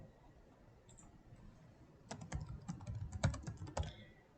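Typing on a computer keyboard while entering a search term into a library catalog, a quick run of close clicking keystrokes after a quiet start, no voices.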